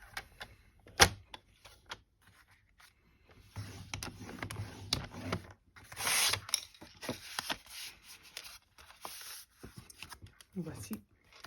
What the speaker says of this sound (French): Je vais la découper sur une base de carte classique